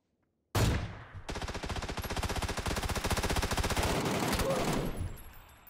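Sustained automatic gunfire in PUBG, a solo first-person match on the Vikendi snow map: a sharp shot, a brief pause, then a long, dense, rapid burst of loud, close rounds lasting several seconds before it stops.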